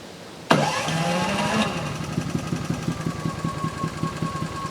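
A Dethleffs XXL motorhome engine cranks and fires with a sudden loud roar. It settles within a second or two into a steady, rhythmic idle that stays fairly close, with no talking.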